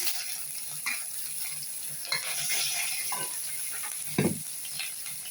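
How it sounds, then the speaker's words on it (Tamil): Fried onions going into a pan of spices for cauliflower curry, with a soft steady sizzle and several stirring scrapes, ending in a louder clatter near the end. "வறுத்து வச்ச வெங்காயத்தை போட்டுருவோம்."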